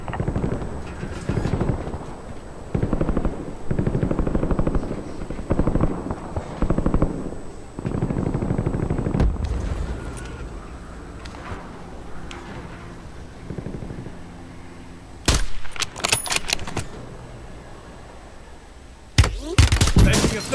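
Gunfire in a battle royale video game: loud, rapid automatic bursts repeat over the first half. After a quieter stretch, a few sharp, isolated shots crack out near the end.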